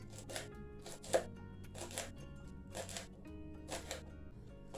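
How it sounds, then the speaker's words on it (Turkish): A knife chopping vegetables finely on a board for a vegetable börek, quick irregular taps close by and fairly quiet, with brief pauses between bursts. "Sebzelerin kesimi ince olacak."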